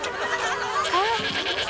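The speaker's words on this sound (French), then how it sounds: "La chèvre de Monsieur le maire mange votre pantalon" An animated goat belonging to a town mayor bleats in a short, wavering cry in the middle of a cartoon scene, with voices talking around it.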